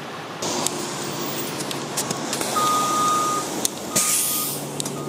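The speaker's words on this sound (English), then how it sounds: "Finally, I think I see a bus coming." A city bus pulls up to a stop on a city street at night, its engine rumbling and air brakes hissing, with a beeping alert and steady traffic noise around it.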